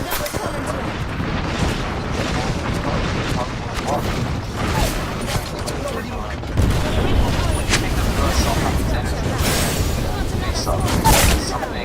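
A grenade blast in a shooter game comes as a dull boom amid a busy wash of gunfire and battle noise, with a player talking over the action.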